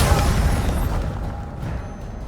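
Incendio fire spell cast in the Hogwarts Legacy video game, a brief loud whooshing burst of flame with a deep rumbling boom that fades over about two seconds, with no talking.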